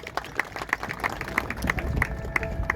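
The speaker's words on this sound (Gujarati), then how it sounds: "એટલે વિંજોડા સાહેબ માટે એકવાર જોરદાર તાળીઓ" Audience applause for a teacher at a district education innovation festival, with a crowd clapping steadily and a rhythmic beat of sharp claps standing out near the front, growing a little fuller toward the end.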